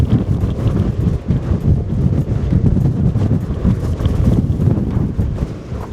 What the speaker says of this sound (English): It's really windy out there today.